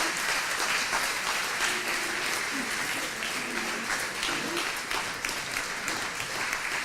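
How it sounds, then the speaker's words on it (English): A conference audience at a tax summit gives a dense, sustained round of applause welcoming Senator Tommy Tuberville, filling the room evenly for several seconds with faint voices underneath. "join me in a round of applause in welcoming Senator Tommy Tuberville"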